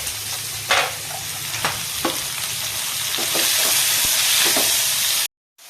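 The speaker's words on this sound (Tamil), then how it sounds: "வெங்காயத்தை கண்ணாடி பதத்தில் வதக்கணும்." Onions and tomatoes sauté in a pan for chana masala: a loud, steady frying sizzle with occasional stirring scrapes, close by and free of speech, cutting off to silence at the very end.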